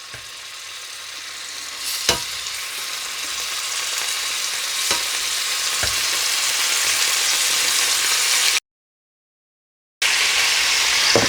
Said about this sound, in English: I'm just going to add my chicken pieces in, meat side down, like that.